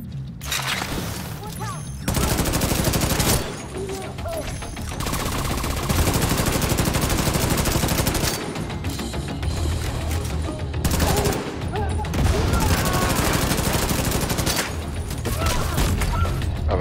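Sustained bursts of automatic gunfire and heavy shooting in the video game Division 2, loud and dense, rattling almost continuously for the whole stretch with only brief lulls between volleys.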